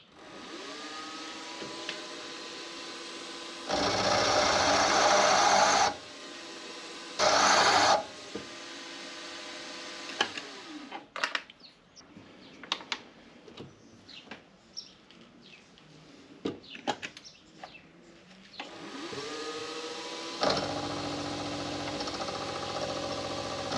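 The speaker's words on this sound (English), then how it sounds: "What we're going to do is chamfer this hole on this side" A milling machine with a chamfer bit chamfers a hole in a tool-holder clamp, with short bursts of loud cutting noise separated by quieter stretches of scattered clicks and taps as the motor spins up and winds down.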